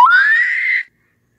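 A person lets out a single loud, rising scream that lasts under a second and then cuts off into silence.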